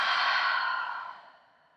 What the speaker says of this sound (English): Taking a big breath in here. And exhale.